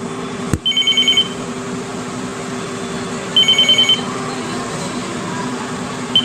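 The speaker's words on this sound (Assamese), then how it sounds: "কোনোবাই ফোন কৰি আছে।" A telephone rings indoors with two bursts of rapid electronic trilling tones a few seconds apart, preceded by a sharp click, over a steady low hum.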